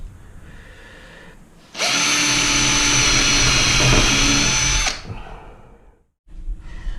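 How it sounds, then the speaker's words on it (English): A power drill bores holes into struts for mounting a kicker board, a loud steady whine running for about three seconds close to the mic, with quieter workshop noise before and after. "So the first thing I've got to do is put some holes in the struts."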